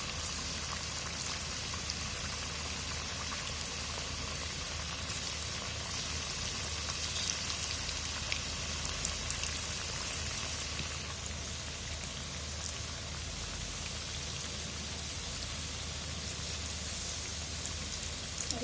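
Balls of rice flour batter deep-frying in hot oil in a kadhai give a steady, dense crackling sizzle that runs without a break. It is close and fairly loud, with no talking.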